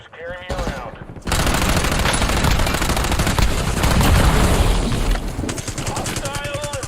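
Rapid automatic gunfire in a first-person shooter video game, a sustained loud burst of shots with brief voice chatter before and after.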